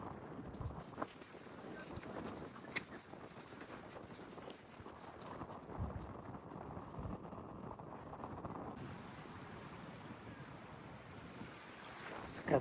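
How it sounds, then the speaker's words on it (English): Wind gusts at Agnes Waterfall in Gippsland, Australia, producing a steady, rushing roar with buffeting noise on the microphone that carries on throughout. "It's pretty windy now."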